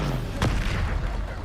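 A Bombarda spell blast in the Hogwarts Legacy video game, a single sharp booming burst standing out against a dense, continuous bed of game noise.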